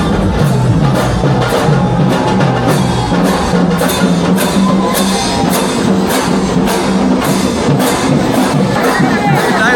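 A large, dense crowd gathered at the Kapaleshwar palanquin procession during Mahashivratri festivities on the Godaghat in Nashik, a loud, continuous roar of many voices and cheering with rhythmic percussive beats running through it.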